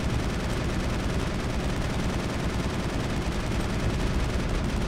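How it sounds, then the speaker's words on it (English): Dense, continuous roar of gunfire in the video game Mass Effect, a loud unbroken wash of shots and blasts with no pauses over the whole stretch. "All the better to shoot you with,"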